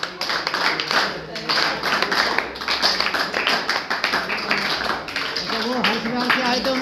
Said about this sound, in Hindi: चलिए ताली से स्वागत।